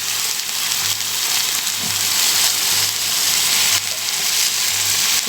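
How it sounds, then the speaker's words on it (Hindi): Chicken tikka pieces fry in a karahi pan with a steady, even sizzle and crackle that holds at a constant level throughout, with no talking. "एक साइड पे फ्राई होगा फिर दूसरी साइड पे कर दूँगी।"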